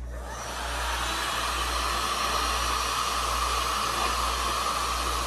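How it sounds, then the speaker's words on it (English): A shrink wrap heat gun blows steadily on a plastic bag, producing a loud, continuous whooshing hiss with a faint motor hum. The sound starts and holds constant throughout, heard alone without any voices. "Now, I'm going to show you how the actual shrink wrap gun would have done this."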